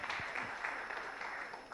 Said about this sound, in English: can we have an applause for him?